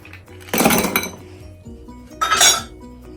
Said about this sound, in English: In my whiskey glass, I'm just going to go in with some ice.